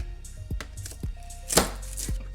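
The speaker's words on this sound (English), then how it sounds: "Let's get this garlic minced." A knife chops and minces three garlic cloves on a cutting board, giving about five crisp, close knocks in an uneven rhythm, with no talk.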